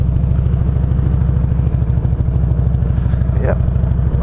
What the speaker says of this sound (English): Yep, I did hear a motorcycle.